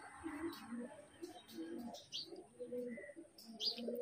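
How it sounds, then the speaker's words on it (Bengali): Andhra Fulshira pigeons cooing close by in a loft, a run of soft low murmuring coos with a few higher chirps over a quiet background and no talk. "এটা হচ্ছে আন্ধ্রা ফুলশিরা পায়রা"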